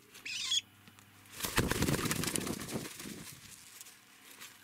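Pigeons at a dovecote burst into flight with a loud, close flurry of clattering wingbeats lasting a couple of seconds, preceded by a brief bird call.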